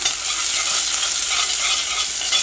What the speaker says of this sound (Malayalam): ഇപ്പോൾ വെളിച്ചെണ്ണ നന്നായിട്ട് ചൂടായിട്ടുണ്ട്. ഇതിലേക്ക് ചുവന്നുള്ളി ചേർക്കാം.